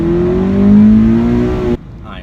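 Toyota 86 engine revving from inside the car, a loud rising tone that climbs and holds before cutting off sharply. A short quiet tail follows.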